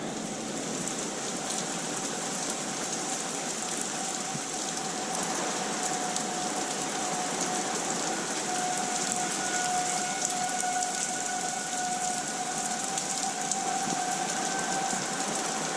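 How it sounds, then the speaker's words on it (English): Tornado warning sirens wail steadily in the distance under the constant hiss of rain falling on surfaces, a faint, sustained tone running through the whole stretch with no voices. "Sirens are still blaring."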